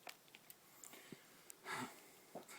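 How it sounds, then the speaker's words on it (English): Dogs sniffing at the ground on a summer walk, probing a mouse hole, giving faint, scattered snuffling bursts and one louder snort-like rush of breath, close by against a quiet outdoor background. "it's the dogs sniffing the ground."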